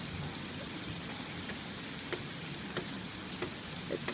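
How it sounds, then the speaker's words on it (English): Heavy rain during a December rainstorm pours steadily, a dense even hiss of drops hitting surfaces with occasional louder nearby splats, with no voices. "It's raining so much."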